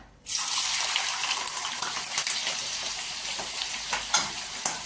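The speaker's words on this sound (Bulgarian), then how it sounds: "Изсипваме дропчетата." Chicken giblets hit a hot pan and fry, a sudden loud, dense sizzle starting after a brief quiet and holding steady with crackling pops throughout, no talking.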